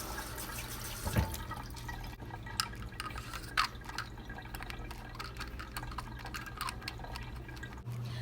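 Water drips and trickles into a spray bottle in a steady, close-up stream, with a few brief splashy accents and no talking.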